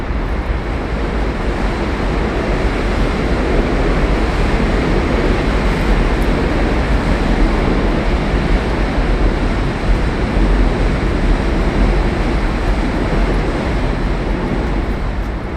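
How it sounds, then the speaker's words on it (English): A New York City subway train rumbles loudly and steadily past, a continuous roar of wheels and cars heard from a street walk in Brooklyn. "it's going to get loud because the subway's here"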